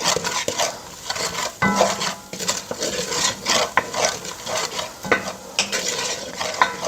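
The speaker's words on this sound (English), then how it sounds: "I'm just going to use that to scrape up all the goodness in this pan" A utensil scrapes and stirs across the bottom of a frying pan on the stove at just under medium heat, salted food gently sizzling, with repeated close scraping strokes and small knocks of metal on metal.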